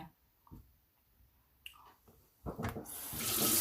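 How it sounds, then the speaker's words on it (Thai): Hot water gushing from a kitchen tap into a sink for soaking sticky rice, starting as scattered small clinks and handling noises, then building into a loud, steady broadband rush of running water over the final second. "เปิดเป็นน้ำร้อนนะคะ"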